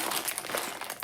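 A large plastic bag of unbranded flatware being cut open, giving a brief, close crinkling and crunching of plastic with no talk.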